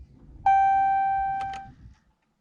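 A JDi Ghost security system in a 2019 Hellcat Challenger gives a double beep: one clear sustained electronic tone followed by two short quick blips, loud and close with no talking.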